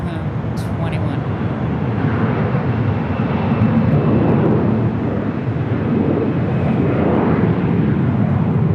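Airbus A321 jet roaring down the runway on takeoff at LAX, a loud, steady broadband engine rumble that swells slightly midway and holds close throughout, with talk faintly mixed in underneath.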